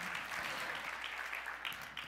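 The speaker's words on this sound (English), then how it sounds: "I hear everybody backstage clapping." People backstage at a publishing technology conference clap faintly and steadily, a soft, distant wash of scattered applause with no voices on top.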